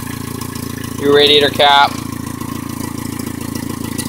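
A 1996 Geo Tracker with a rebuilt engine, a cracked stock manifold and a K&N cone filter idles with a smooth, steady, even rhythm, while someone speaks briefly over it.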